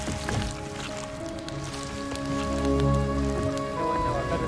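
Soft, steady rainfall in the video game Ori and the Will of the Wisps, a faint continuous patter with a low tonal game hum beneath.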